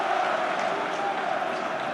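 A rugby crowd at an Ulster versus Dragons match cheers the naming of Ruan Pienaar as man of the match, a steady, dense roar of many voices that holds evenly without a break.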